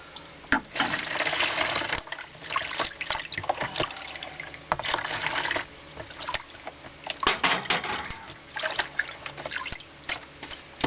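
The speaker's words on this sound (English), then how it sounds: "And then I add hot water." Hot water pours and splashes into a tub for bathing in an off-grid camper. The liquid gurgles and trickles in uneven surges with short pauses, close and fairly loud, with no talk.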